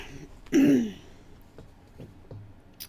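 A woman's throat clearing, one loud, close rasping burst followed by a few faint smaller sounds in a quiet room, with no talk.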